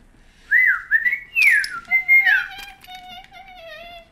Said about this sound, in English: That's a lovely whistle you got there.